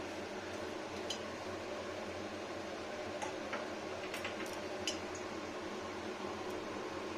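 Whole cumin seeds crackle in hot mustard oil, making sparse faint ticks and small pops over a quiet, steady background hiss.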